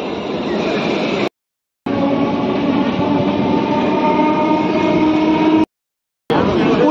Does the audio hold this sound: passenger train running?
yes